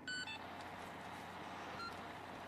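Short high electronic censor beeps, a bleep stacked with harmonics near the start and a fainter one later, sound over steady background noise during sports-announcer style commentary in a Battlefield 3 game.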